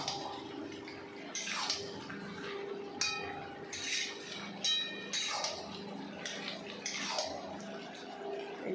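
Metal spoon scraping and clinking against a pan while jackfruit curry with ghee is stirred, scattered clanks over a faint background hiss.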